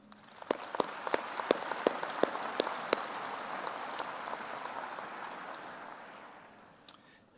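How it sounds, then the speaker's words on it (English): An audience at a health sciences graduation ceremony applauds the graduates, a few sharp nearby claps over a broad wash of clapping that swells and then gradually fades, ending with one last isolated clap. "May we give a round of applause for our graduates."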